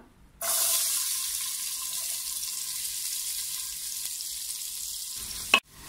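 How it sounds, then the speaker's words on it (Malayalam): Sliced onions sauté with whole spices in a pressure cooker for egg biryani, giving a steady sizzle that starts abruptly, holds close and even, and ends with a sharp clatter. "ഈ സ്പൈസസ് എല്ലാം ഒന്ന് മൂത്ത് വരുമ്പോൾ അതിലേക്ക് നമ്മൾ അരിഞ്ഞു വെച്ചിട്ടുള്ള സവാള ചേർത്തൊന്ന് വഴറ്റിയെടുക്കാം."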